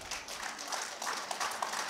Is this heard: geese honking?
no